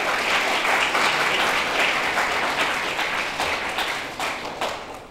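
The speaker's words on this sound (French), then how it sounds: "Un applaudissement, s'il vous plaît." Audience applause at a ceremony, dense and steady at first, then thinning and fading over about five seconds, with no talk on top.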